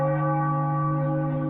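A large bell is rung before a Philadelphia 76ers home game against the Nuggets, one sustained ringing tone with bright overtones that hangs steady and loud with no talking.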